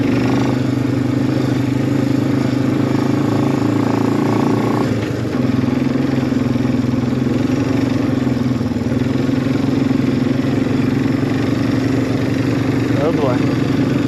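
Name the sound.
Suzuki quad ATV engine while riding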